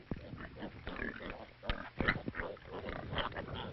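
Pigs on a farm in 1970s China: continuous low grunting and snuffling from several animals, moderately close, with occasional louder squeals over a murky, noisy background.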